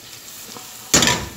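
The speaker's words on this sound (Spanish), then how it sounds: "yo tengo acá el ajo que está dorándose" Garlic browning in oil in a pan, a quiet low hiss that erupts into a loud, bright sizzle partway through and stays strong to the end, with no talking.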